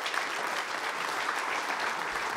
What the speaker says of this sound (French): Et vous pouvez les applaudir tous les deux.